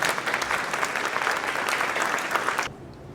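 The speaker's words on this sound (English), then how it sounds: "Let's give them a round of applause." An audience at a school parent night applauds a panel of parents walking onstage: steady, dense clapping at moderate volume for nearly three seconds, then cutting off abruptly.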